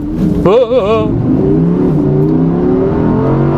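Close inside a car, the engine revs up hard with a rising whine, then pulls steadily as it accelerates, loud and continuous with a voice briefly over it.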